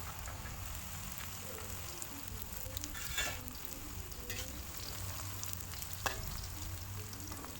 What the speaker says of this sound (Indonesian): lalu kita goreng dulu